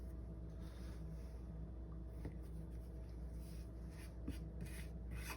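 A knife cuts through floured biscuit dough on a work surface. The soft, quiet scraping strokes are faint and steady, with a couple of slightly sharper cuts and no talking.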